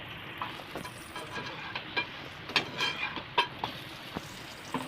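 Eggplant slices frying in a pan, a soft steady sizzle with scattered crackles and spatula taps as pieces are turned, fairly quiet and close, no voices.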